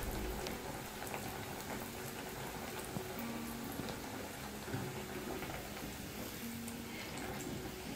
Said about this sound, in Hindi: अब इसी तरह मैं ये पेटीज बॉक्स को भी फ्राई कर लूँगी एक एक करके।